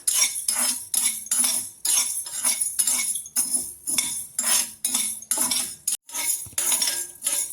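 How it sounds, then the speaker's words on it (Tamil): Dry roasting in a pan over medium flame while making salted seedai, with a spoon rhythmically scraping and clinking against the metal pan in regular strokes, close and crisp, no talk. "மீடியம் ஃப்ளேமில் வச்சு வாசம் வரும் வர வறுத்துக்கிறணும்"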